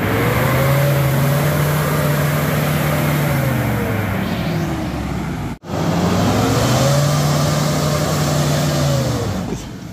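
Car engine pulling in second gear, a loud droning note rising and easing in two long sweeps, broken by a brief cutout near the middle.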